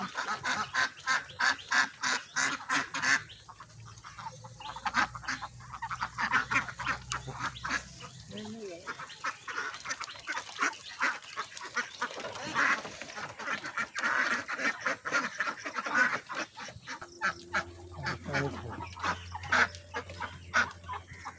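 A flock of ducks quacks and honks nearby, calls overlapping in a busy, steady chatter throughout.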